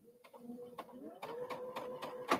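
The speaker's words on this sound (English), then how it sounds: "And then just go ahead and sew off." A sewing machine stitches fabric in a short, faint burst of rapid mechanical whirring with rhythmic ticking.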